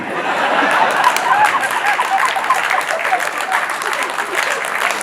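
Loud, dense audience applause at a Hindi poetry gathering during a Dussehra fair, many hands clapping steadily throughout with faint crowd murmur mixed in.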